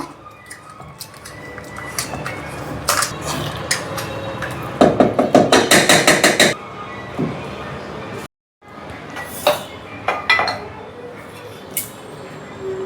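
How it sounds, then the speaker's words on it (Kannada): Cooked lentils are mashed with a masher in a pot: a quick run of rhythmic clinking strikes against the metal, with scattered clatters before and after and a voice talking over parts of it. "ಬೇಳೆ ಇವಾಗ ಚೆನ್ನಾಗಿ ಬೆಂದಿದೆ ಇದನ್ನು ಚೆನ್ನಾಗಿ ಈ ಸ್ಮ್ಯಾಷರ್ ಇರುತ್ತಲ್ಲ ಇದರ ಸಹಾಯದಿಂದ ಮಸ್ಕೋಬೇಕು"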